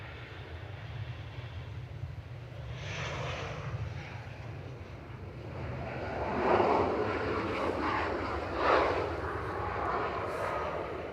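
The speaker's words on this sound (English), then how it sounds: "It's the Darth Vader plane." Airliner at Manchester Airport droning steadily through the whole stretch, a broad engine roar heard from a distance that swells somewhat louder toward the end, with no talking over it.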